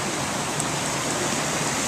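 A river running high with snowmelt in February rushes past in a steady, dense roar of flowing water, close and continuous with no voices.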